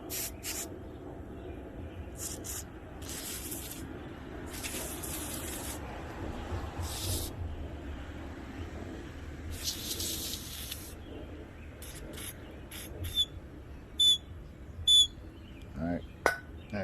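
Aerosol carb cleaner sprayed onto a 2-stroke engine carburetor from a weed eater or hedge trimmer, heard as several short hissing bursts of varying length, with a few sharp louder ones near the end over a low background murmur.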